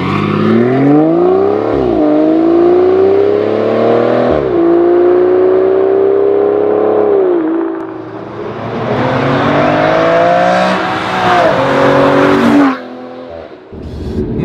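A V12-powered Aston Martin Vanquish GT, naturally aspirated with no turbos, revs and accelerates loudly close by, pitch climbing through repeated gear pulls with brief drops between shifts, no talk over it.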